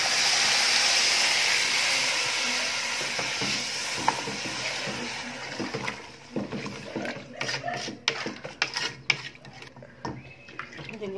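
Water poured into rice and vermicelli frying in a pan for Egyptian koshari gives a loud burst of sizzling that fades, then gives way to scraping and clinking as the mixture is stirred, with a voice speaking at moments.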